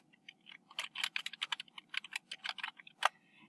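Typing on a computer keyboard: a quick, uneven run of light key clicks close by, with brief pauses between bursts and one sharper tap near the end, no voices.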